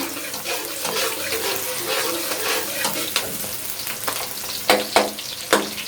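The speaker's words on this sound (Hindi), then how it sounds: "एक छोटा प्याज जो है हमने लिया है, इसको हल्का सा फ्राई करेंगे।" Onion fries in a pan for vegetable noodles, a close bubbling sizzle with scattered clicks and a few louder stirring knocks near the end; no talking.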